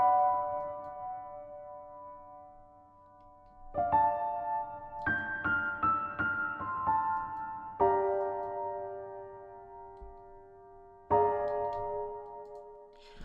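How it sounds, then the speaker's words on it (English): A piano states the main motif of a remixed Limbus Company main menu theme, playing sustained notes and chords that enter in distinct phrases, clear and close with no voices. "I have the piano that's doing the main motif that we can hear that sounds like this."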